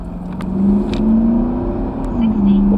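A Porsche Cayenne 4.2 TDI fitted with a big brake kit is revved during a brake test. Loud, close diesel engine revs surge and ease in waves, with a voice briefly audible.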